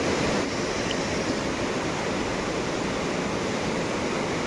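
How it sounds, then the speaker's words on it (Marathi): Floodwater rushes after heavy monsoon rain in the Konkan region, a loud, steady broadband roar of churning water that fills the whole stretch without pause or talk. "पाणी बघ जबरदस्त आहे पाणी जबरदस्त"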